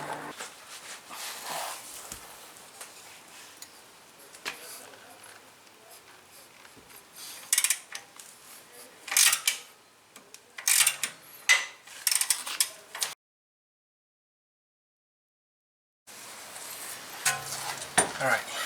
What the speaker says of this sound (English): Then remove the 21mm nut and bolt.